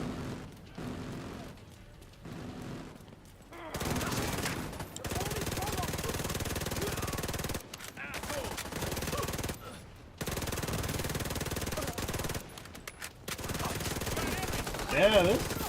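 Bursts of rapid SMG fire in the shooter game The Division 2, several long automatic volleys broken by short gaps, loud and close over a game soundscape.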